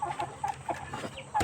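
Mardi chickens at about three months old, a young farm flock of village fowl, cluck softly in a short run of close, repeated calls without any talk.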